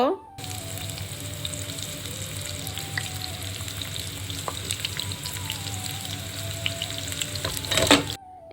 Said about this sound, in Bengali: তো পেঁয়াজটাকে আমি এখন একটু ভেজে নিব